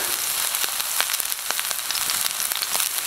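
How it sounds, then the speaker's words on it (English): A ribeye steak searing in a cast iron pan on a wood stove gives a steady, close sizzle with scattered sharp crackles and pops throughout, with no voices. "I'm getting a pretty good sear on that pan"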